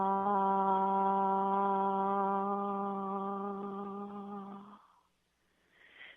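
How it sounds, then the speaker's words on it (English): A single sustained mid-range 'ah' vowel sung steadily on one breath for about four and a half seconds, rich and even, then fading out, with a soft breath afterward. "those ah tones, you just sustain that sound all the way to the end of your breath"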